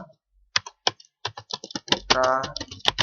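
Rapid, irregular keystrokes on a computer keyboard while entering text in a word processor, close and crisp, with a brief denser run of clatter near the end.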